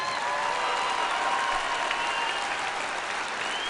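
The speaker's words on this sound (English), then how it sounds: "Please give them a round of applause as well." Sustained applause from a commencement ceremony audience, a dense even wash of many hands clapping at moderate loudness with no talk over it.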